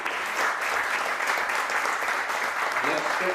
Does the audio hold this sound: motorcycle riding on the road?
no